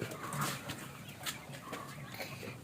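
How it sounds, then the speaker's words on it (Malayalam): Quails kept in a backyard pen in Kerala, giving soft, repeated bird calls with a few brief chirps and coos, moderately close over a noisy, busy background. "ഇതാണ് നമ്മളെ കാടകള്."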